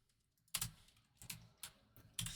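About five quiet key presses on a computer keyboard during Blender modelling, spaced unevenly, close by, with no voice over them.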